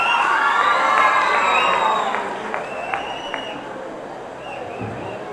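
An audience at a memorial awards ceremony in Hyderabad cheers loudly, with high-pitched shouts and whoops over crowd noise and some clapping, the cheering fading after a couple of seconds into lingering hubbub.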